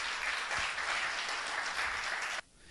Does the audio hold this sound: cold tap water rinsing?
no